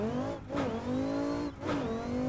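Dean Kearney's Viper driving tight mountain roads, its engine revving in strong harmonic pulls with two brief lifts between gear changes, loud and close.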